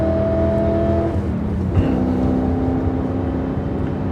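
A Mitsubishi Evo drives along with a steady engine hum and road noise, a tonal whine shifting pitch around a gear change midway, heard close from inside the car with no talking.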